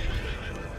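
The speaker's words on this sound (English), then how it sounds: "Horse, stop freaking out." Horse in Red Dead Redemption 2 whinnying and neighing in distress, a short loud panicked burst with faint hoof clatter underneath, set during an outlaw robbery spree in Saint Denis.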